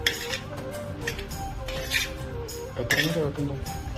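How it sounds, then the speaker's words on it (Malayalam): A spoon scrapes and clinks against the vessel while mango pickle is stirred with salt and turmeric, the metallic knocks repeating steadily under a speaking voice. "ഉപ്പും മഞ്ഞളും ഇട്ട് ഇളക്കി"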